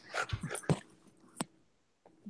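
A dog whimpers and yips in a few short, close bursts, followed by a brief pause and one more soft whine.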